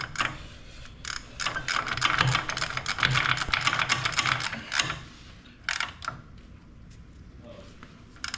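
Ratcheting clicks from tightening a bolt on the track tensioner of a Vermeer mini skid loader, a rapid, close run of mechanical clicks lasting several seconds, then fading to a few sparse clicks.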